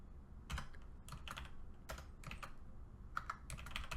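Quiet computer keyboard typing while entering a Python project folder path: irregular bursts of clicky keystrokes in short clusters with brief pauses, close and soft, no voices.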